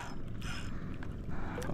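A fishing reel's tight drag ticks in quick, uneven bursts of clicks as a fish pulls line, fairly faint against a background rumble, on a boat.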